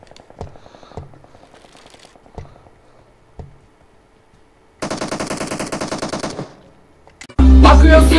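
Rapid automatic gunfire in PUBG Mobile: a few scattered single shots early on, then a loud sustained burst of fire near the end, closing in a heavy blast.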